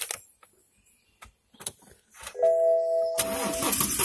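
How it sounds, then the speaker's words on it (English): A BMW X1 starts up: a few clicks and a short chime, then the engine cranks and catches, settling into a loud, steady idle. "First of all, I'm going to turn on the engine."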